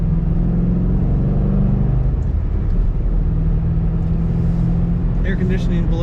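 A 2008 Ford Mustang Bullitt cruising down the road, its steady low engine drone and tyre rumble holding constant, close and loud, with faint higher noises near the end and no speech.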